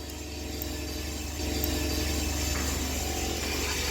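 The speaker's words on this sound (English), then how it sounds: "unscrew this governor clamp nut using a 10mm wrench" A 10mm wrench works loose the governor clamp nut on a two-stroke generator, giving a steady, close mechanical ratcheting with no talk.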